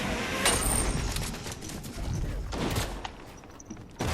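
Fortnite gunfire crackles in bursts, with sharp shots clustering at the start and again midway, fairly close and loud over a busy game background.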